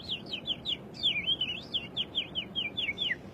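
A person's voice imitates bird calls: a quick, rhythmic run of about a dozen high, chirping tweets, close and clear, with short gaps between each note.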